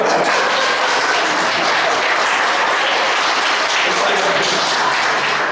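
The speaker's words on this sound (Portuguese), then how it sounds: "Você pode aplaudir o Senhor?" A church congregation applauds the Lord during a service, a loud, dense wash of clapping that holds steady throughout.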